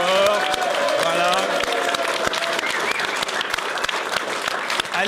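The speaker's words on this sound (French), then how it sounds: "On peut vous applaudir très fort." A television studio audience applauds a singer, a full, sustained round of clapping heard close, with people talking over it.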